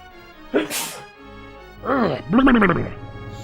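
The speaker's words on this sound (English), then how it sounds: "I'm going to sneeze." A person sneezes during a livestream of a Star Wars game, a sharp burst followed by voiced, sneeze-like noises, close and loud against quiet background game audio.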